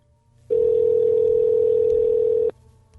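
A telephone dial tone holds one steady, unbroken pitch for about two seconds before cutting off cleanly, heard alone and clearly with no voices.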